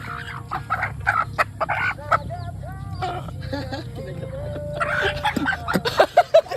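Chickens cluck and squawk in repeated bursts, fairly close, with a steady low hum of background noise and brief pauses between calls.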